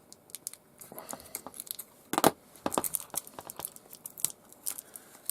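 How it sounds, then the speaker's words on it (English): Sellotape tearing and crinkling as it is pulled off the aerial wire of a Roberts Revival R250 radio, a close series of sharp, irregular rips and crackles with one louder tear near the middle. "Get the sellotape off this aerial wire."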